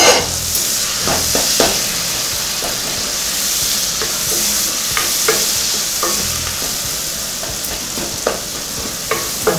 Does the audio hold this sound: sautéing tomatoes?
yes